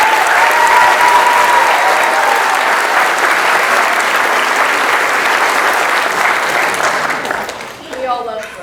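Sustained applause from a theater audience for a longtime director, dense and steady clapping that fades toward the end as a voice begins.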